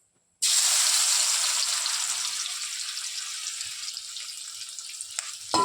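Chicken roast pieces hit hot oil with a sudden loud sizzle that carries on steadily, slowly easing in intensity, frying close by without any talk.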